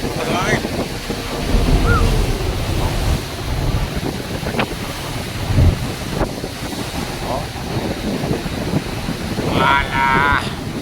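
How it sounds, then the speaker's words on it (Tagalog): Large ocean waves churn and wash under heavy wind buffeting the microphone, a loud, continuous roar with surges, and voices talking over it at times. "Medyo malaki na ng alon eh."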